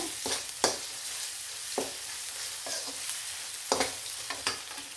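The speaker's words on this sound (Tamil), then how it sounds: "3 பல் பூண்டு, சின்ன இஞ்சி இதில் நான் சேர்த்துக்கிறேன்." Three cloves of garlic and a small piece of ginger sizzle in hot oil in a pan for mango rice, with a soft continuous frying hiss broken by several sharp scrapes of a spoon stirring.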